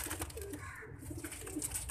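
Sialkoti pigeons, a single imported pair kept in a pen, give soft repeated coos over a steady, busy background hiss.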